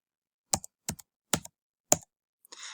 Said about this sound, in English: When you type in your student ID,